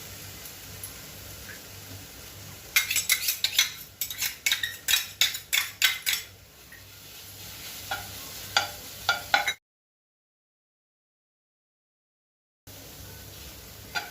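Grated raw mango is stirred in a hot wok on a gas stove, making a run of quick scraping clicks and light taps against the pan. The sound is close and moderately loud, with a short stretch of silence near the end.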